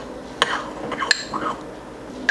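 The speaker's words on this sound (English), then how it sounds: "Get this stirred up nice." A spoon stirs a seasoning mixture with garlic powder for wild hog charcuterie, giving a few sharp metallic clinks against a bowl between softer scraping, close and fairly quiet.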